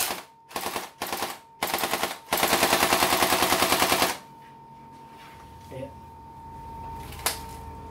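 An AKM 47 gel blaster with blowback action test-fires in several short bursts and then one longer full-auto burst, loud, rapid and close, followed by quiet handling clicks.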